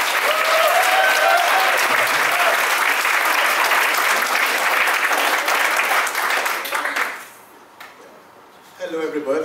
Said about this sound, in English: let's give a warm welcome, lots of applause for the newlywed couple